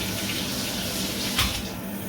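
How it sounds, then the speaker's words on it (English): Shower water running in a steady, close rush of spray that continues without a break, with a faint knock partway through. "This is about to be the best shower of my life"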